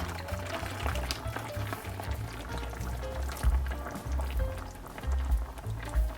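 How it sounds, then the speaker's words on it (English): Filipino soy sauce is poured into chicken adobo cooking in a pot with Filipino vinegar and spices, a soft liquid trickle with low bubbling thumps, steady and close, no talk. "Then a 1/2 cup of Filipino soy sauce."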